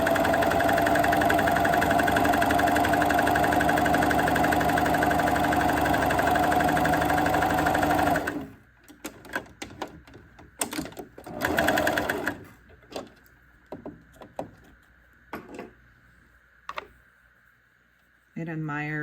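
A serger stitches a rolled edge hem on a scrap of fabric, running loud and steady for about eight seconds, then giving way to a few short, scattered bursts of stitching.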